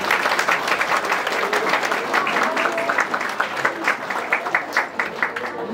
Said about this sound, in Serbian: Molim vas aplauz.